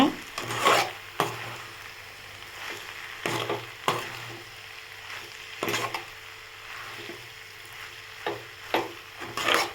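Okra sautéed with masala in a pan for a stir-fried side dish, with repeated scraping stirs of a spatula in irregular bursts over a low steady sizzle, close and clear, without speech.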